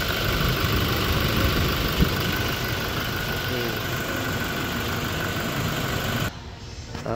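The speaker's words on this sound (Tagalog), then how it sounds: "Tingnan natin muna yung tunog ng makina bago natin umpisahan po" Toyota Innova engine idling at high mileage ahead of EGR valve and intake manifold service, a steady continuous hum and rattle heard up close, dropping off near the end.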